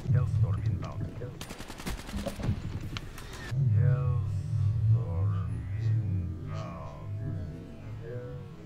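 Video game gunfire: a burst of rapid automatic shots crackles for a couple of seconds, then a low rumbling engine-like drone continues while someone talks over the action.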